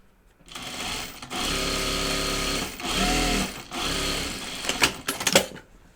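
A sewing machine stitching a quilted project bag runs in short steady bursts with brief pauses between, as a backstitch reverses direction, close and fairly loud, ending with a few clicks and clatters.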